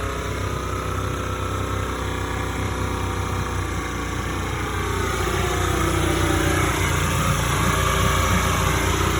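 An idling engine with leaking exhaust plates, a steady close rumble with a rough, buzzing vibration that holds for about nine seconds, with no talk.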